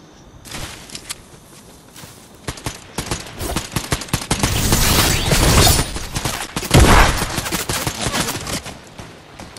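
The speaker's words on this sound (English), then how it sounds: "Someone's shooting me from over here!" Rapid, loud gunfire from a Fortnite Zero Build squads match, with dense overlapping bursts and single shots building toward sustained automatic fire, without voices.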